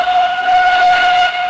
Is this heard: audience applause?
no